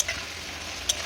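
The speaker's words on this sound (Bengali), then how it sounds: "তো দেখো এবার এটাকে আমি ভালো করে কষিয়ে নিচ্ছি" Shrimp, jackfruit seeds and potatoes sauté in a pan, with a soft continuous sizzle and a couple of sharp utensil taps against the pan as they are stirred, heard close and without talk.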